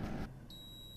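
An air fryer gives a single high, clean electronic beep as its cooking cycle of chicken shawarma ends, sounding moderately near after a brief rustle.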